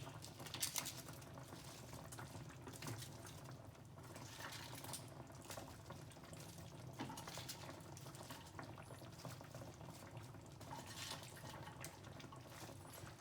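Cabbage simmering in a pot of boiling chicken stew (guisadong manok), giving a steady, close bubbling and hissing of liquid that stays constant throughout without any talking.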